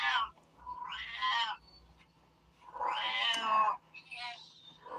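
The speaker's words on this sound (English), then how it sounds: "That cat is so noisy, isn't he?" A domestic cat meows loudly and insistently, several drawn-out, rising cries with short pauses between them, close by in an indoor room.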